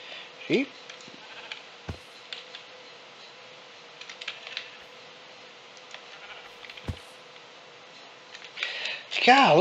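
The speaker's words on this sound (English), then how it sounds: "Let's kill that sheep." Bleats of a sheep from the video game Minecraft, two short wavering calls, one near the start and a louder one at the end, over faint game ambience and scattered clicks and taps.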